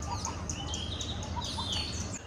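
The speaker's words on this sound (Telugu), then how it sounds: "బర్డ్స్ చిర్పింగ్ వినిపిస్తుంది చూడండి కదా." Birds chirp and tweet in quick, scattered calls among the trees of a green resort near Hyderabad, soft and fairly distant over a low background hum.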